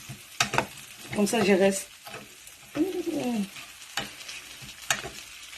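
Green beans and mushrooms sizzle in a pan as they are stirred, with crackling frying and spatula scrapes close by, and someone speaking briefly between stirs.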